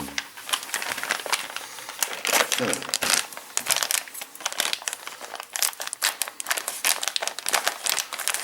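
Plastic-wrapped parts from a 1/8-scale Eaglemoss Ecto-1 model kit are unpacked, producing dense, continuous crinkling and crumpling of plastic with sharp crackles throughout, close and fairly loud.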